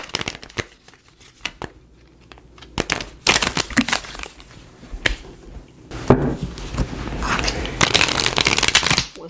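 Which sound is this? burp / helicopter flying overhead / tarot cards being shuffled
tarot cards being shuffled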